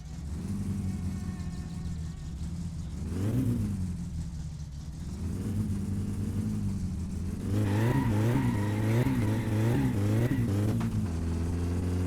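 Car engine in My Summer Car revving hard and rising and falling with wheel slip, a steady loud drone climbing in pitch through repeated surges, no talk over it.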